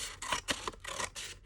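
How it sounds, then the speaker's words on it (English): Scissors snip through a vintage paper bag in a quick series of short crisp cuts, close and fairly quiet, with no talking. "I'm just going to cut it open."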